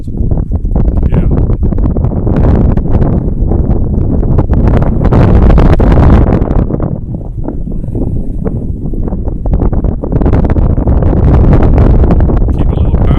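Heavy, constant wind buffets the microphone outdoors during a model airplane flight on a windy day, a loud, unbroken roar that swells and eases with the gusts.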